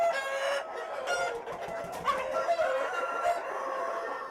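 Giriraja chickens on a poultry farm, with a rooster crowing in drawn-out calls and hens clucking around it, fairly close and clear with no voices.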